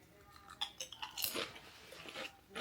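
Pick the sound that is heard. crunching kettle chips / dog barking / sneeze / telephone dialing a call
crunching kettle chips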